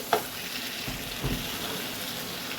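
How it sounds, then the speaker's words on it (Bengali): Chicken chaap sautéing in a pan, a steady sizzle and hiss of frying with a couple of soft stirring scrapes and knocks, close and fairly quiet, no one talking. "এবার এটাকে একটু কষতে থাকলে"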